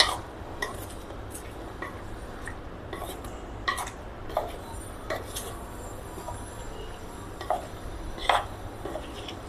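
A spoon works chicken satay marinade and salt around a bowl, giving scattered light clinks and scrapes against the dish over a quiet kitchen background, no talk.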